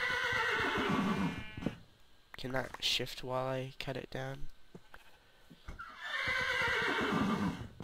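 A horse in the video game Minecraft whinnies loudly, then someone speaks briefly before another drawn-out neigh rises over the scene.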